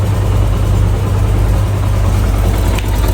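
Yamaha YBR125 motorcycle engine with a butterfly carburetor settling back to a steady idle after carburetor mixture adjustment, a loud, close, even low thrum with no talking.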